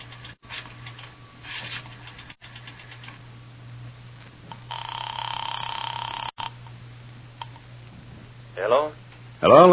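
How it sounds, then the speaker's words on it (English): A payphone being dialed in an old-time radio drama, with scratchy clicks and tones over a steady low hum, followed by a brief ringing sound near the end. "dropped a nickel in the slot, and dialed"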